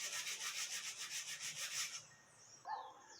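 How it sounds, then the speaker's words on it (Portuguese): Fine sandpaper rubbed back and forth over a cast copy to smooth away coarse scratches, giving a steady run of about a dozen rhythmic rasping strokes for two seconds before stopping, followed by a faint brief scrape. "eu vou entrar com uma lixa mais fina para dar um acabamento nisso"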